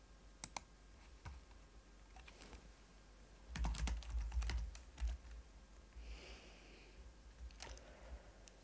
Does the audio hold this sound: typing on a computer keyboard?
yes